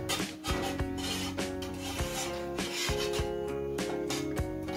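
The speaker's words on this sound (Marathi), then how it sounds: "तर तुपामध्ये बेसन पीठ जे आहे ते भाजून घ्यायचं आहे।" Gram flour being stirred and roasted in ghee, a steady close scraping and rubbing of a spoon through the thick mixture in a pan, with a harmonic hum running underneath throughout.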